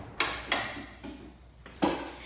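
The release rope on a LiftMaster 8500W jackshaft opener fitted to a heavy, balanced high-lift garage door is pulled, giving two sharp mechanical clicks and later a third clunk, with a faint mechanical hum underneath.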